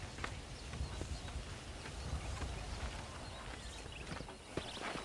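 Horse hooves clip-clop steadily on the ground in the western game Red Dead Redemption, a continuous faint rhythmic plodding with outdoor ambience and no talking.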